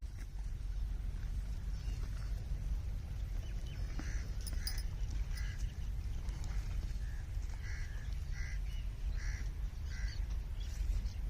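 A crow caws several times in short bursts, somewhat distant and fairly faint, over a constant low rumbling background.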